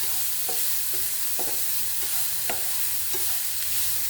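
Grated coconut, shallots, green chilies and cumin are stirred in a hot pan, with a steady low sizzle and spoon scrapes roughly every half second, and no voices.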